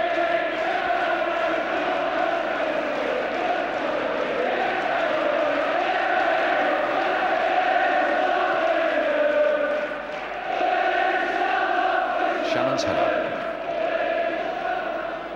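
A large crowd of Manchester United fans roars and chants continuously at the 1976 FA Cup final against Southampton, a dense, loud wash of voices with a brief dip in the middle.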